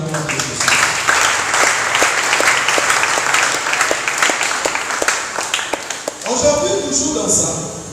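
A church congregation bursts into sustained, loud applause and cheering during a worship and prayer service, dense clapping running for several seconds before tapering off as a voice resumes.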